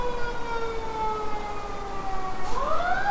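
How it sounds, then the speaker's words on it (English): Emergency vehicle sirens wail steadily at moderate distance, several overlapping tones with one sweeping upward in pitch near the end, with no talking. "More sirens."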